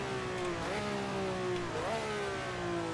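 A vintage Formula 1 car with an H-pattern shifter and old tyres on a flying lap, its engine droning steadily with rising and falling pitch through shifts, heard continuously with no talking.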